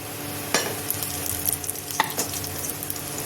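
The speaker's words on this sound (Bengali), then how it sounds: "এখানে দিয়ে দিচ্ছি কড়াইয়ে তেল, আর দিয়ে দিচ্ছি কিছু ফোড়ন, শুকনো লঙ্কা, গোটা জিরা" Whole spices such as dried red chillies, cumin and bay leaves tempering in hot oil in a kadai, a soft steady sizzle with a few sharp clinks of stirring, close by and without talk.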